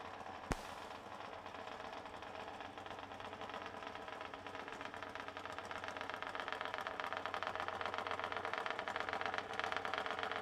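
A drag racing funny bike with a Jay Turner chassis runs its engine at the strip, a steady close mechanical drone that gradually swells louder across the clip, with one sharp click near the start.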